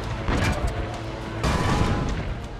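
Cannon fire during a siege defending a villa in the video game Assassin's Creed Brotherhood: two heavy booming blasts with rumbling, crackling tails, loud and close, no voices.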